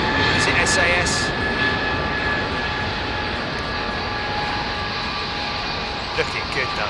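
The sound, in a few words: jet airliner engines idling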